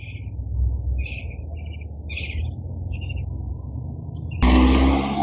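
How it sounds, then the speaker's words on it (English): Several birds call from a distance after 8 a.m. in short chirping bursts over a low, steady outdoor hum, before a louder rushing noise cuts in. "All the sounds that you can hear that the different types of birds are making"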